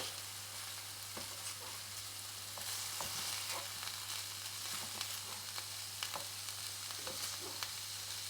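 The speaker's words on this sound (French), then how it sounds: "Je peux retourner mes steaks." Steaks sear in a pan with a soft, continuous sizzle and scattered light crackles and taps as the meat is turned, fairly quiet and without talking.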